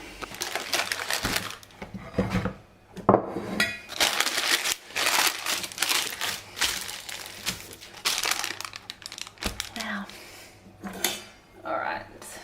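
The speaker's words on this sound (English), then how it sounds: "I'm going to chop that up now." A knife cuts a firm baked oat slice on a hard surface, giving repeated sharp clacks and knocks in uneven bursts, close and fairly loud, with brief speech in between.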